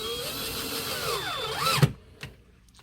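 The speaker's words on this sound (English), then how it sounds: "I'm going to put this screw back in just to tighten the machine up" Power drill driving a screw back into an Arcade1Up cabinet, a whirring motor whose pitch rises and dips before stopping with a click, then a faint knock, close and alone.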